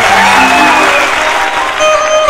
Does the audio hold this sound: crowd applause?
yes